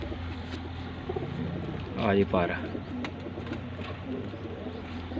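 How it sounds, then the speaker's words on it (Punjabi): A teddy pigeon coos in a short rolling burst near the middle, close and clear against a steady background hum, while someone talks around it. "ਦੋਸਤੋ ਟੈਡੀ ਕਬੂਤਰ ਆ"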